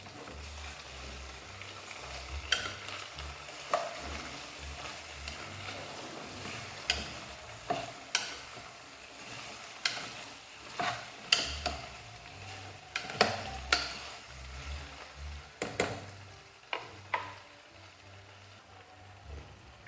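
Chopped tomatoes are stirred in a potato curry pan: a spoon scrapes and clicks in irregular knocks over a soft, steady sizzle, close up, with no voices.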